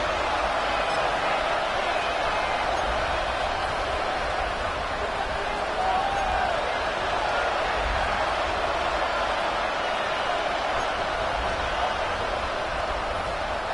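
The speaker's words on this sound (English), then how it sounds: "This crowd turning up the decibel level." A football stadium crowd roars steadily throughout, a dense, loud wash of cheering noise with no breaks and no clear voices standing out above it.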